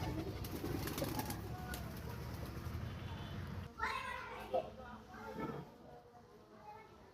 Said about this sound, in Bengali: এখানে অনেকগুলো কবুতর।